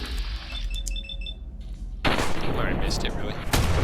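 A shotgun fires in Fallout 4: one loud, sharp blast cuts in after quieter electronic game tones. The boom is followed by dense, sustained noise and rumble.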